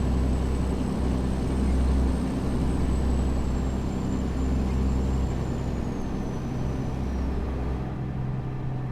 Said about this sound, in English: Whatever engine sound this is from SCS actually sounds pretty good.